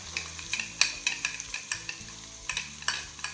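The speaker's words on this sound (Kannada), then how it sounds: "ಈರುಳ್ಳಿ ಹಾಕ್ತೀನಿ." Onions sizzle and fry in a pan for vegetable pulao, with repeated stirring scrapes and clinks over a steady frying hiss, close and fairly quiet, with no talk.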